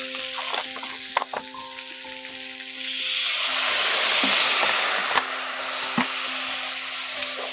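Tomato and spices frying in a pan after a little water is added, a steady broadband sizzle that swells loudly in the middle and stays continuous, with a few faint stirring clicks and no talk.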